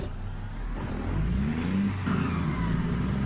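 In American Truck Simulator, a Freightliner Argosy's mechanical engine revs up and then winds down slowly, a steady mechanical whir with a rising whine from a turbo, heard alone.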